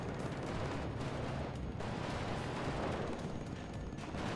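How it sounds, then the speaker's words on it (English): Dense machine gun and rifle fire from infantry fighting in the WARNO video game forms a constant, loud wall of overlapping shots with no pauses, heard alone without voices. "But are getting torn apart pretty quickly by the machine guns and the rifles."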